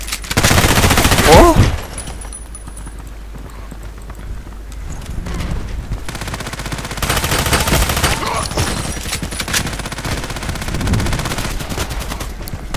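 Gunfire in the online shooter Contract Wars comes in quick bursts of shots, a loud burst early and more firing later amid game noise, with a voice heard faintly.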